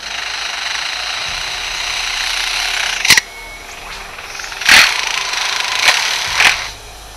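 A lyrebird's voice imitates a chainsaw: a loud, steady, buzzing mechanical drone broken by several sharp cracks and bursts.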